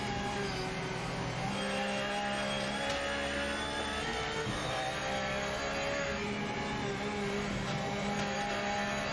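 Several race cars from a video game (Ford, Chevy, BMW and Lamborghini models) roar together in a dense pack, a steady layered engine drone with shifting tones and no speech over it.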